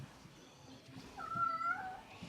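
A cat meows once, a faint, drawn-out cry in the middle of a quiet stretch with low background hum and no talk.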